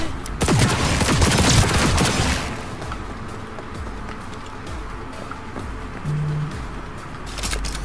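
Rapid gunfire rattles toward the player in Cyberpunk 2077, a loud dense burst of shots in the first couple of seconds, then sparser, fainter pops and bangs trailing off amid game ambience.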